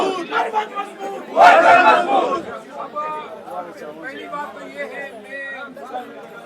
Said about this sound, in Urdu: آفس میں یہی نعرے لگ رہی ہیں کہ ورکر مضبوط، مروت مضبوط کے نعرے.